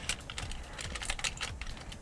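Old metal doorknobs handled as foley to recreate the sound of a gun being handled: a dense run of small metallic clicks, taps and rattles, close and continuous, with no talking.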